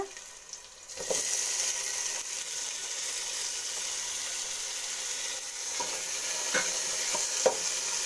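Onion and tomato fry in oil for drumstick sambar, a close, steady sizzling hiss punctuated by a few soft knocks of a spoon stirring the pan.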